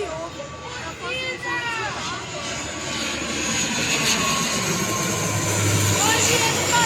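An ATR 72-600 turboprop airliner at Uberaba drones steadily nearby with a constant engine roar, while people, including children, talk and shout over it.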